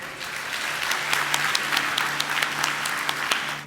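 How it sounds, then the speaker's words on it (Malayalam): Applause from an audience at a yoga talk and camp in Kottayam, a dense wash of many hands clapping together, steady and moderately loud, then tapering at the end with no talk over it. "എല്ലാവരും കൈയടിച്ചേ"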